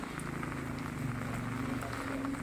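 Steady rain pours onto waterlogged, flooded streets in a residential area of Ambala Cantonment, a constant close wash of patter and splashing with no voices.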